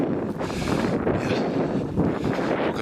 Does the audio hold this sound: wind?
yes